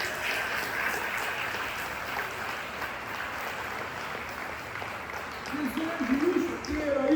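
A church congregation applauds, a broad wash of clapping hands spread across a large room, sustained and steady, with a voice rising over it toward the end.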